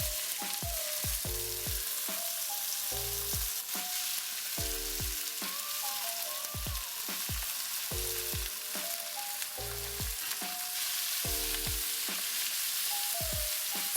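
Buffalo meat fries in oil with ginger, a constant bright sizzle under repeated metallic clanks and scrapes of a spoon stirring the pan, close and clear with no talk.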